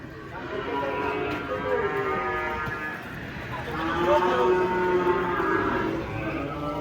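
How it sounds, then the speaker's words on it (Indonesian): Deep, lowing moos come from a giant cow at a cattle market, repeated and close, amid a noisy crowd with voices talking throughout. "Banyak sapi unik guys di pasar. Datang lagi sapi raksasa unik."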